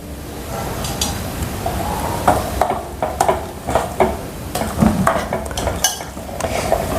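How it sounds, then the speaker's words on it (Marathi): Metal spoon clinks and stirring scrapes in a pot as oil goes into urad dal cooking on a stove, with a soft sizzle underneath; irregular taps over steady low background noise. "तसंच एक चमचा तेल टाकते याच्यामध्ये"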